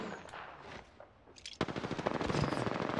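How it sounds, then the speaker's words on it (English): Automatic weapon fire in Apex Legends: a few scattered shots, a short lull, then a dense sustained burst of rapid rounds close by for the last second and a half. "I'm being shot from everywhere."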